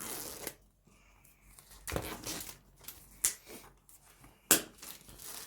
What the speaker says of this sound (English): Let's go ahead and peel this open sticker here.